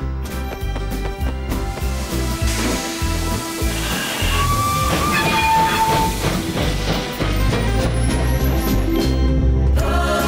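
Cartoon steam train setting off from the station, a busy mix of hissing steam, chuffing and whistle-like tones running steadily and loudly throughout, with music-like tonal layers and no talking.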